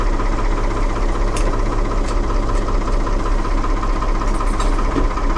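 The diesel engine of a 1975 Ford 550 backhoe runs loud and close in a steady, vibrating drone, with a few faint clanks over the top and no voices.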